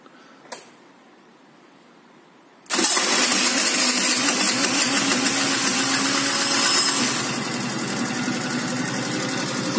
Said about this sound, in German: Ich mache jetzt mal den Motor an.